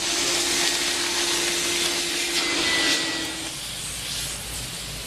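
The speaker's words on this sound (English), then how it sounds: "now we're going to HEPA Vacuum the vapor barrier" A HEPA vacuum cleans the vapor barrier inside a crawl space, producing a loud, continuous whooshing roar with a steady whine that drops in pitch and eases off near the end.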